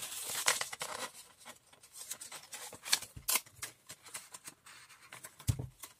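A corner cutting tool trims a postcard with a series of crisp, close snips and small rubbing rasps of card, irregular clicks spread throughout at a quiet level with no talk.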